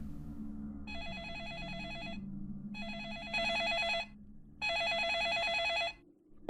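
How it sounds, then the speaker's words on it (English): An in-game telephone rings in the horror video game Deadly Premonition, three bursts of electronic bell trills separated by short gaps, clear and fairly loud over a low ambient hum. "And it's giving me spooky phone calls immediately."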